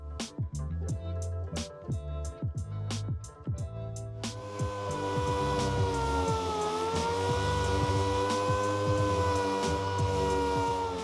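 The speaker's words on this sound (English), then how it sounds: "We're just moving across the hood with 80 grit on our sander." A dual-action sander fitted with 80-grit paper works across a rusty car hood, starting with a run of sharp rhythmic clicks, then settling into a steady, loud whirring drone.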